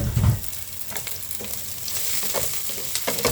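Ginger, garlic and onion sauté in a pan with a steady crackling sizzle, broken by occasional scraping stirs. No one speaks.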